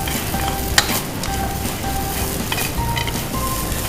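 Chef stir-frying fried rice with skewered shrimp in a busy kitchen: continuous loud sizzling with scraping and clanking of the spatula against the pan, one sharp knock standing out.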